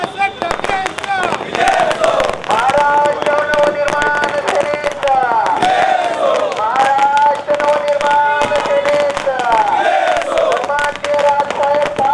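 Fireworks and firecrackers crackle in rapid bursts at a street celebration at a Chhatrapati Shivaji Maharaj square in Vashi, Navi Mumbai, mixed with crowd noise and cheering throughout.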